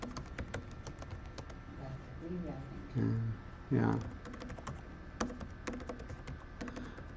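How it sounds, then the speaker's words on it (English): Keys on a regular computer keyboard clatter in quick irregular bursts, near and moderately loud, with a couple of heavier thumps and a brief spoken word. "I can type normally on a regular keyboard"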